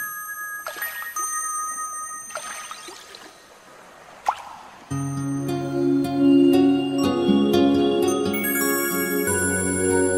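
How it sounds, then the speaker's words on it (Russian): Cartoon sound effect of a goldfish splashing in the sea: a few soft watery drips and plops spaced apart, then a bright, layered musical passage takes over. "Золотая рыбка плещется в море."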